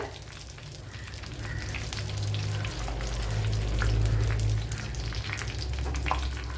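Mustard seeds and dried chillies fry in coconut oil with a steady, close crackling sizzle and sharp pops of bursting seeds, continuing without a break.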